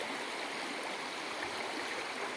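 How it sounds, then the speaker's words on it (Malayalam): Stream water flows at Thathengalam near Mannarkkad, a dense, continuous rushing wash that fills the whole moment with no voices over it. "വെള്ളം ഒഴുകുന്ന വെള്ളത്തിന്റെ ഒഴുക്ക് വളരെ ഭംഗിയും ആസ്വദിക്കാൻ പറ്റിയ രീതിയിലുള്ളതാണ്"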